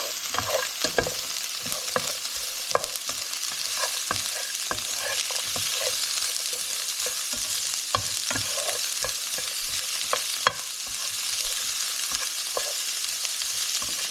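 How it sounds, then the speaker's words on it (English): Onions being stirred in oil in a skillet, a continuous gentle sizzle with a rapid, regular series of spoon scrapes and taps against the pan, close and clear with no talking. "Let me go ahead and stir it up a little bit."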